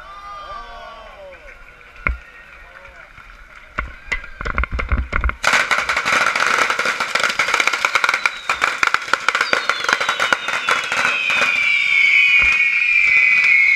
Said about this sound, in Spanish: Cuando la encienda es cuando empezará a sacar cohetes él